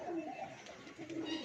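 A pigeon gives a brief, soft coo, quiet and a little distant.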